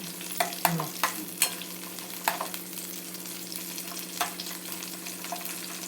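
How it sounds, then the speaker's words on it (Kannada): Curry leaves frying in a pan for chicken gravy give a steady low sizzle with repeated spoon-stirring scrapes and clinks near the start, close and alone beneath a constant stove hum. "ಸ್ವಲ್ಪ ಕರಿಬೇವಿನ ಸೊಪ್ಪು ಹಾಕಬೇಕು ಫ್ರೈ ಸ್ವಲ್ಪ ಕೆಂಪು ಆದ ನಂತರ"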